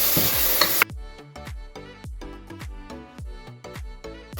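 Coriander, chilli and turmeric powders frying in a pan for a Kerala-style mutton and yam curry with fried coconut, stirred with a brief bright sizzle at the start, then a steady run of rhythmic scraping strokes, close and fairly loud.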